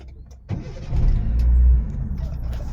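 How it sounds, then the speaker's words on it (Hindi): A car engine starting: a short crank, then the engine catches and swells into a loud, close idle rumble before settling a little, with no talking. "गाड़ी स्टार्ट कर ली है मैंने।"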